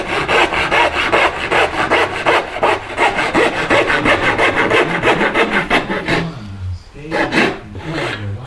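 A hand saw cuts wood along a scribe line for furniture pegs on a curved blockfront lowboy, with steady, rapid rasping strokes close and loud, then a short pause and a few slower strokes.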